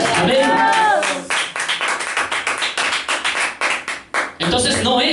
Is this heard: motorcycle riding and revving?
no